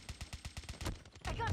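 A string of evenly spaced gunshots from Man O War, fairly quiet and rhythmic, followed by a denser burst of louder noise at the end.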